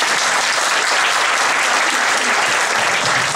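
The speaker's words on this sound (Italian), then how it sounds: "Applauso a Guido per il lavoro che fa." Sustained applause from a crowd at a tenants' union meeting in Chianciano Terme, dense and even clapping that stays loud throughout.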